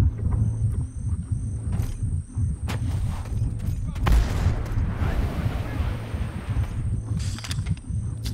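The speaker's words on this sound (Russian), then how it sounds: "О, слышу свинку" Low animal grunts from a pig in the game Predator: Hunting Grounds, heard among bursts of gunfire and other game noise.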